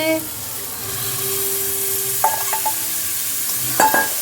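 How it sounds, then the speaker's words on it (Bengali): Boiled dal for a restaurant-style tarka added to a hot pan of frying masala, a steady sizzle and hiss with a couple of clinks and scrapes of a utensil against the pan. "এবার মা সেদ্ধ করে রাখা তরকাটা দিয়ে দিচ্ছে"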